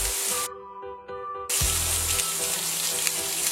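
Onglet steak sears in a hot frying pan, a steady loud sizzle that builds after a brief quieter start and then holds evenly, close up, with no talking.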